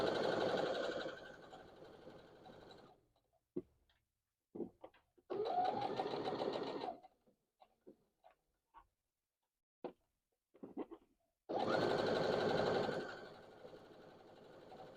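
A domestic sewing machine stitches fabric in three loud bursts of steady motor whir and needle chatter, separated by quiet gaps with scattered clicks and handling noises of fabric and pins.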